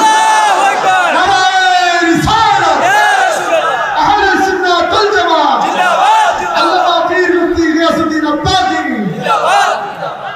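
A crowd at a religious sermon chanting slogans in loud, repeated rhythmic calls, with voices answering together close to the listener throughout.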